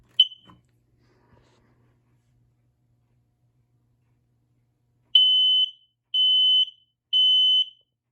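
Smoke alarm with its test button pressed: after a brief chirp and a few soft clicks, a loud, high-pitched alarm sounds three long, evenly spaced tones close by, with no talk.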